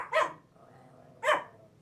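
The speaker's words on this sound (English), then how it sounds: "And that's my 2 dogs chiming in that they like that too." Two dogs bark indoors, two sharp separate barks about a second apart, moderately close, with a faint low rumble between them.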